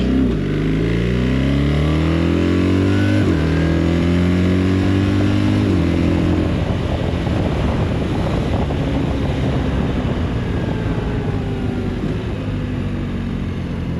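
A BMW R1300 RT motorcycle accelerates hard, its engine note climbing and dropping at two quick gear shifts before settling into a sustained rumble under strong wind rush.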